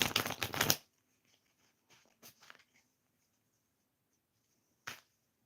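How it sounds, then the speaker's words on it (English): Tarot cards shuffled on a lap: a dense burst of riffling at the start, then scattered soft card slides and taps, with one sharp snap near the end, close and fairly quiet. "I'm just shuffling the cards right here on my lap."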